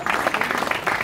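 Audience applause at the official 2024 asparagus season opening event, a steady dense clapping filling the whole short stretch at moderate volume with no voices over it.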